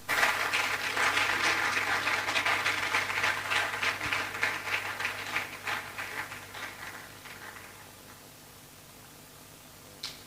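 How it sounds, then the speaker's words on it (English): An audience at a quantity surveyors' annual event applauds steadily, the clapping thinning into scattered individual claps and fading out, leaving near silence with one last clap at the end. "Put your hands together for him."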